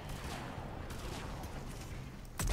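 Shotgun fire in the video game Mass Effect 3, a dense run of rough blasts and crackling gunfire under combat noise, ending in a sharp loud shot.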